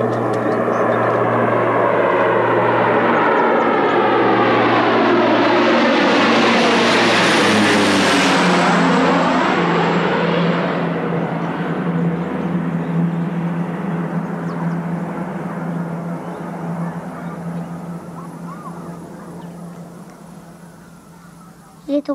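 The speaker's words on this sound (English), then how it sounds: "And that begins with the arrival of a plane." A propeller airplane in the film Chocolat (1988) roars in loudly, its engine pitch sweeping downward as it passes close overhead, then slowly fading into the distance.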